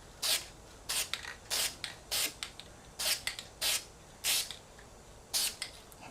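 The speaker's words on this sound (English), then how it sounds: "Spray it first time away from the car to make sure the nozzle's clear." Short hissing bursts from an aerosol can of primer sprayed on a car fender, about ten quick sprays in an irregular rhythm, close by with a quiet background between them.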